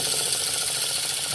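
A small water-driven turbine spinning in a teaching-model hydroelectric plant gives a steady, fast mechanical whir with a fine rattling, ratchet-like texture, loud and close, with no speech.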